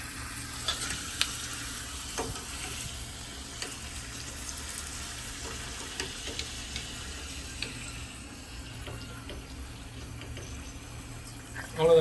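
Appalam (papad) sizzling and frying in hot oil in a home kitchen, a steady soft crackle with occasional stirring clinks, faint and continuous throughout.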